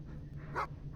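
A dog in the horror game Stay Out of the House gives a single short, faint bark or whimper, heard once over a low background hum.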